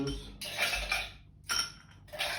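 Ice cubes dropped into a glass while making a mojito cocktail: three quick bursts of clinking and rattling, close and fairly quiet, with no talking.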